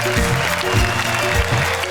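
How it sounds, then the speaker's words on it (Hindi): A crowd claps in a dense, continuous burst of applause, with a low musical drone underneath. "थोड़ा जोरदार तालियां इनके।"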